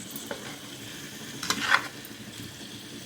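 Pieces of bochu fish frying in a pan as they are carefully turned: a low, steady sizzle with a short scraping clatter of the turner partway through.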